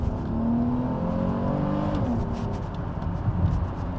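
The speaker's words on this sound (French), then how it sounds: "je vais pouvoir vous faire une mini accélération histoire de voir un petit peu" A 1996 Renault Safrane V6 with the PRV engine revs briefly as it accelerates, a steady, fairly subdued engine note rising in pitch and then settling, heard close with no talking.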